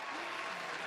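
Brief burst of canned applause played from a sound-effect button, a dense, even clatter of clapping lasting under a second.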